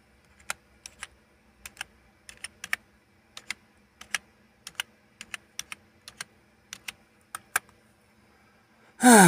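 A password is typed on a computer keyboard: about twenty crisp, close key clicks in short uneven bursts over a quiet background, ending in a sudden loud burst of noise.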